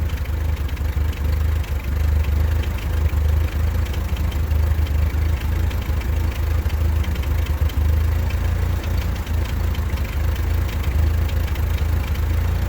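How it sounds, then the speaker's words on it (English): A worn Ford 9N tractor engine runs at idle just after an oil change, a steady, close, loud low-pitched chugging with a slight knocking texture throughout, no talk. "let's go ahead and fire it up here and see how it does"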